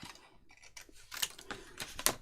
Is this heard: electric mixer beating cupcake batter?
no